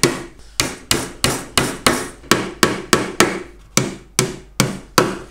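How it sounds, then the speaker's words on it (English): Sharp, regular hammer blows drive one-inch lost-head wire nails into a wooden commercial brood body beehive box, about a dozen close, loud strikes in even rhythm with no talk. "take your inch lost head wire nails, place one in the middle of each corner"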